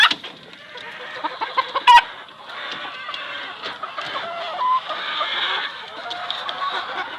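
Chickens cluck and a brood cock calls at feeding time among chicks, with steady overlapping clucks and short calls nearby and one sharper squawk early on.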